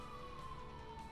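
An emergency vehicle siren, fire engine or ambulance, wails steadily at a distance with a slowly falling tone, faint and continuous with no talking.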